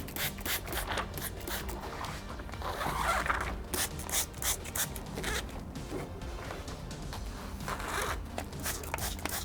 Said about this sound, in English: I'm going to start to peel it back just a little bit at a time.